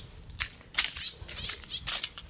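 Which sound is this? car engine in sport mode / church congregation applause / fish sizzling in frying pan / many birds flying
many birds flying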